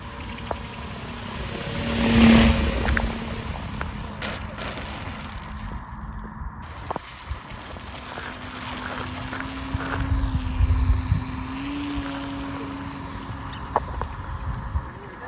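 A radio-controlled gyrocopter flies with a steady whirring rotor and buzzing motor drone that swells as it passes close, drops back and rises again against faint outdoor background.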